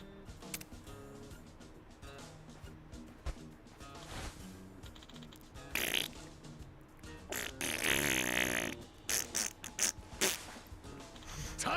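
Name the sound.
farts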